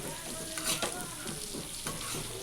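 Pieces of lolli fish fry in a pan, a soft, even sizzle under a few gentle scrapes as they are turned, close and fairly quiet.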